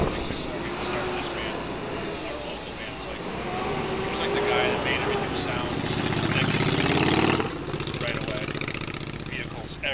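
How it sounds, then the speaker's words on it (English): Garbage truck and motorcycle engines rumble and idle steadily outdoors, with the garbage truck's motor swelling louder midway, under continuous conversation nearby. "You got to bear with us with the garbage trucks and the motorcycles."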